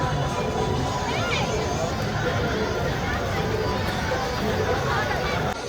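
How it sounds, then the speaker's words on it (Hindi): A dense crowd at the Varanasi ghats in Banaras, India fills the air with steady babble of many voices, scattered shouts and children's calls, loud and continuous throughout. "एक तो हम कहीं पे भी जा रहे हैं, इतनी ज़्यादा भीड़ है।"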